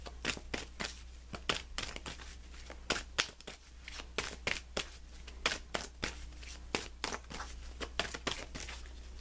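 Tarot cards being shuffled and pulled, a quick run of crisp riffling snaps and flicks repeating irregularly throughout, close and fairly quiet with no talking.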